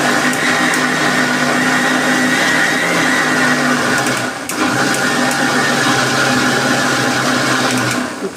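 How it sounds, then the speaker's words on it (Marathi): A kitchen mixer grinder blends a mango ice cream mixture with fresh milk cream, running as a loud, steady whirring drone that dips briefly midway and cuts off at the end. "आपण आता मिक्सरला फिरून घेऊया"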